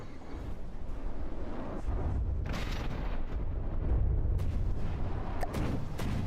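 CRAM cannon fire in the naval combat game From the Depths, a continuous rumble of heavy booming shots and distant explosions with sharp cracks bursting through near the end.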